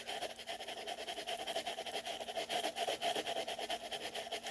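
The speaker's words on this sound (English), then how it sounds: "Just scrub, scrub, scrub." Steady scrubbing and rubbing as Color Street nail strips are scrubbed off fingernails, a continuous close, fairly quiet friction texture with no talking.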